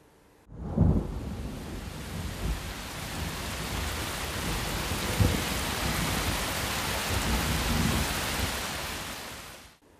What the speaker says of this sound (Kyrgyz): Жамгырдын үнү